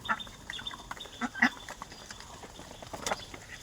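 Three-month-old ducks scramble and feed, with scattered soft quacks and pecking, splashing noises at moderate distance amid background murmur.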